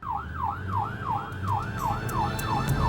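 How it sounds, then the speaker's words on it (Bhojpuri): An ambulance siren wails in a steady, repeating rise-and-fall cycle, loud and continuous over low traffic rumble, with no talking. "एम्बुलेंस"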